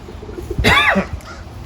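A pigeon in a loft gives a single soft, rolling coo, close and brief, against quiet background.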